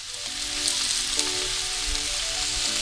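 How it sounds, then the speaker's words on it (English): Meat seasoned with salt and black pepper pan-grilling until golden brown, giving a steady, close sizzle with a few light pops and scrapes. "So this is called pan grilling until golden brown."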